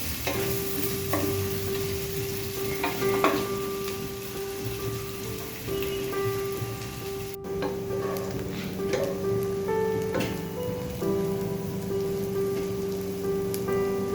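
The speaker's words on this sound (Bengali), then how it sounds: "পেঁয়াজটাকে একটু ভেজে নেব ব্রাউন করে, একটু সোনালি সোনালি রং হবে" Chopped onions fry in oil toward a golden brown for khichuri, a continuous close sizzle with stirring scrapes and light clinks of a spoon against the pan, and no speech.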